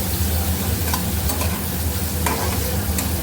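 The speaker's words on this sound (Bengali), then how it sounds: "সেটাকে একদম ধুয়ে এখন ভালো করে ফ্রাই করে নিচ্ছে" Washed chicken pieces fry with onion and green chili in a pan, a loud continuous sizzle and stirring hiss with a few scraping strokes.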